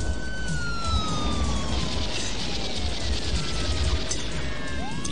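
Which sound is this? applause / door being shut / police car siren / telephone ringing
police car siren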